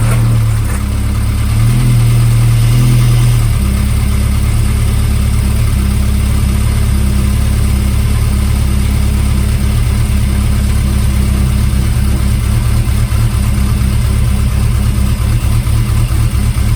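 Classic Mini engine idling after a head gasket repair, started without coolant, giving a loud, steady low chug with a brief rev change near the start, running alone without talk.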